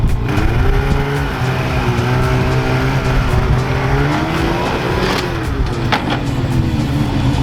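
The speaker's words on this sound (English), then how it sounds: "I think I built up my confidence enough to give it a shot to load the sled." Polaris snowmobile revving loud and close as it climbs onto a trailer, a steady droning engine whine that rises and falls in pitch through the run, with short scraping and squealing bursts near the end.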